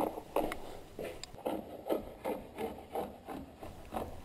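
Rhythmic strokes of a Wood River chisel plane scraping hardened glue off a wooden surface, about a dozen short rasping passes in a steady back-and-forth pattern, close and fairly quiet.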